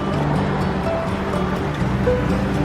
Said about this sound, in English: Oh yeah, the water's really flowing in.